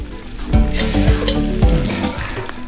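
Onions frying in olive oil in a cast-iron potjie pot over an open fire, a steady close sizzle broken by the scrape and clatter of stirring.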